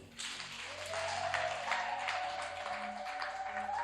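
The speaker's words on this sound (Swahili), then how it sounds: "Piga Yesu makofi." A church congregation claps for Jesus during a Swahili sermon, a dense, sustained patter of many hands filling the room for a few seconds, with a faint tonal hum underneath.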